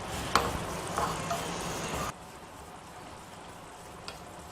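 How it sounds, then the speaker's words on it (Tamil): Dried fenugreek leaves (kasuri methi) frying in a small tempering ladle give a soft crackling sizzle for about two seconds, close by, then it drops to a faint low hiss. "அதில் இந்த கசூரி மேத்தி இருக்கு இல்லையா, காய்ந்த வெந்தய இலைகள், அதை போட்டுங்க நல்லா ஃப்ரை பண்ணிடலாம்"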